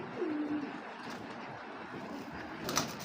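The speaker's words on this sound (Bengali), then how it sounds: "একবারে অরিজিনাল কোবরা বাত্তি লাইনের কবুতর" Cobra Batti pigeons, an original racing line, give a brief soft coo early on, followed by faint rustling and a quick chirp near the end over a steady low background.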